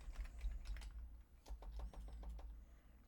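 Quick bursts of keystrokes on a computer keyboard, a flurry of clicks followed by a pause and then a second steady run of typing, close and fairly quiet with no talking.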